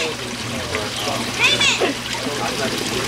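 Water drains from an aquaponics tank through a siphon tube, a soft gurgling trickle with small splashes, under a person talking nearby.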